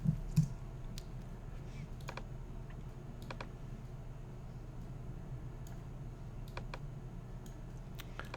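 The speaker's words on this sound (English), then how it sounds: "here we're going to type the emerald carpet" Typing on a computer keyboard while editing a product image for Star Nursery synthetic turf: scattered quiet key clicks and short bursts of taps over a steady low hum, with no talking.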